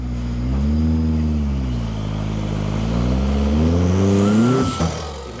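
Engine of a 4x4 off-road vehicle at the Maxxis 4XTR in Parys, revving hard and nearby as it strains over a boulder, pitch swelling and dipping in surges before a sudden thump and cutoff at the end.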